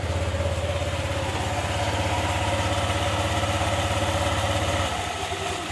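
A Honda Click V3 scooter fitted with 13-gram rollers runs with a steady, throbbing engine note that holds evenly, then drops away near the end; no talking.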